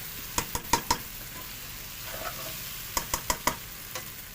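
Okra and onions for bhindi masala sizzle in a pan, with a steady low fry under a series of sharp, close spoon-against-pan taps that come in two quick clusters.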